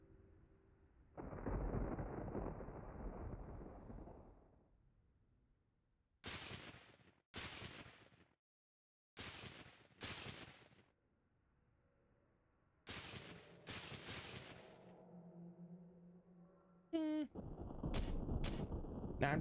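Thunder and lightning in the game Tomb Raider 4: a long rolling rumble followed by several sharp separate cracks and bursts, loud against quiet gaps.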